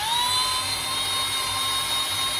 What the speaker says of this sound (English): 5/16 drill bit. It basically fits in there, but we're just gonna slowly work it around